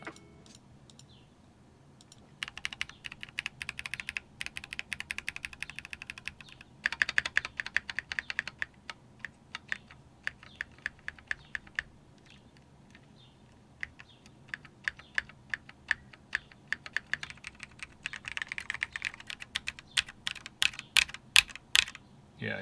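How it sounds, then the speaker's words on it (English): Clicky keystrokes on a custom Wind X mechanical keyboard, arrow keys being tapped in quick irregular bursts and singles, close and fairly crisp, with no voice over them. "Yeah, you can really hear it on those arrow keys."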